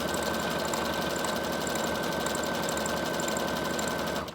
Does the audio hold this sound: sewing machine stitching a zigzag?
yes